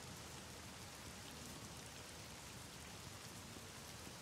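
Rain falls steadily in the horror video game The Medium, a dense, even hiss of drops that fills the whole stretch with no pauses or voices.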